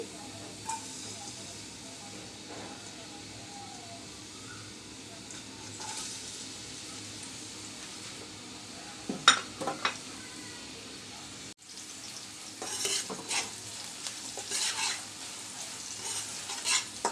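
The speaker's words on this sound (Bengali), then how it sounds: "এখন দিলে একটু তাড়াতাড়ি রসুন আর পেঁয়াজটা ভাজা হয়ে যাবে" Low, steady sizzling of garlic and chopped onion frying in a little oil in a pan, with occasional scraping stirs and a brief louder clatter partway through.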